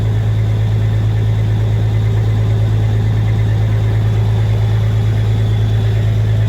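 A truck engine idles with a loud, steady low rumble and constant vibration, unchanging throughout and close by.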